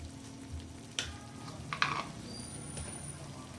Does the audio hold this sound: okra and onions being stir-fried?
yes